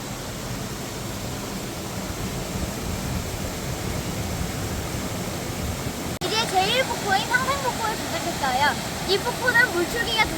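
Gogyang Falls, a waterfall hidden in a rock crevice on Naeyeonsan mountain, roars constantly nearby; after a few seconds a person starts talking over the rushing water.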